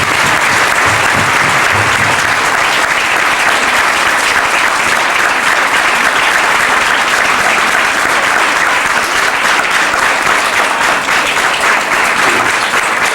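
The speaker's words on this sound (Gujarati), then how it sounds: "એનું આપણે આજે તાળીઓથી અભિવાદન કરીએ" A school audience claps for teachers at a cultural program, with dense, sustained applause filling the hall at a steady level from start to finish.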